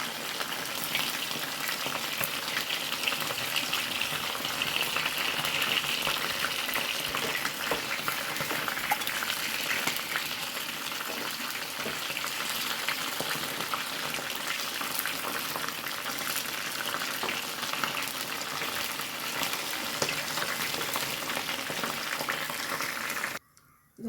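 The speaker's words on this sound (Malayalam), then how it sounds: "ചിക്കനൊക്കെ വറുത്തെടുത്തിങ്ങനെ ഇടാം നമുക്കിതിലേക്ക്" Chicken pieces fry in a pan of hot oil while jackfruit biryani is being cooked, giving a loud, steady sizzle and crackle that holds for about twenty-three seconds with no talking, then stops abruptly.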